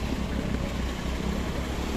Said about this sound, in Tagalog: Ito yung motor ng ano, operator.